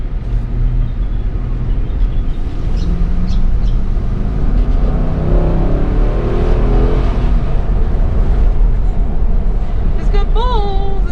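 A Nissan Y62 pickup, a large new vehicle on its first drive, gives a steady loud engine rumble as it accelerates, with road noise throughout and voices talking over it.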